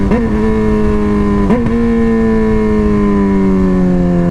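A loud, steady motorcycle exhaust drone up close, holding one rumbling pitch with a brief blip of throttle partway through.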